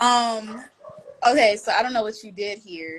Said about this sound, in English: I know you could probably hear the dogs barking